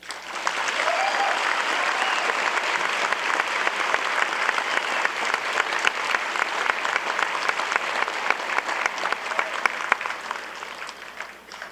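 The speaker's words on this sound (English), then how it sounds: "Now you may clap." An audience at a high school honors night applauds loudly and steadily for about twelve seconds, many hands clapping in a dense, even roar without a break.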